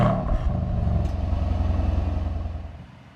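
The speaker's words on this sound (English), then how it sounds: "I'm going to start with the AMG Emotion Start with holding the paddle while starting the car." Mercedes-AMG GLC63S Coupe engine firing up with the AMG Emotion Start, a sharp loud bark at ignition settling into a deep, steady rumbling idle close by, fading slightly toward the end.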